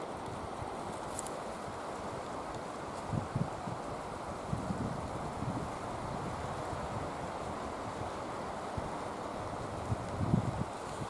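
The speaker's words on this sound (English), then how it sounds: "here's the wind" Outdoors among trees in rocky terrain, wind rushes in a steady broadband roar that also buffets the microphone, with a few faint low thumps underneath.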